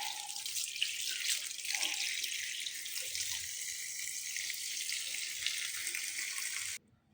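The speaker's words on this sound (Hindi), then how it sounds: "इसे वैसे अच्छी तरह वॉश कर लें। कि इसमें मिट्टी वगैरह ना रहे, पत्ते साफ़ हो जाए।" Radish leaves are rinsed under a running kitchen tap, a steady, close hiss of flowing water that continues without pause and then cuts off abruptly at the end.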